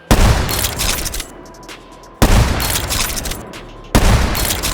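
Three loud, close shots from a bolt-action rifle that chambers rounds automatically in the VR game H3VR, each a sharp crack with a ringing tail, spaced about two seconds apart.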